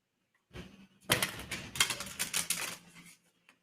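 A few quick bursts of papery riffling and soft slaps, close and quiet, as a tarot card deck is shuffled and tapped together.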